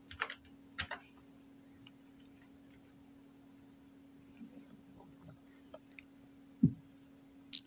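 Sparse keystrokes on a computer keyboard, a few quiet taps in short bursts with long gaps, faint against a low steady hum.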